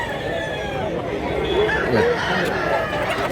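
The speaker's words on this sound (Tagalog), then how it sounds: "Gwapo mga manuka." Gamefowl roosters at a farm in Mantalungon, Cebu, crow amid clucking chickens, with nearby voices chattering over a steady outdoor background.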